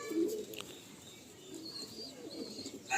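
A Kasuri pigeon, a knot-crested bird, coos in a low, soft rolling murmur, close by, with faint higher chirps above it.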